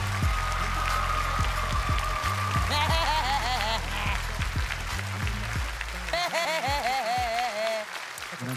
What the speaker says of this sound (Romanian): Doamnelor și domnilor, aplauze pentru Mario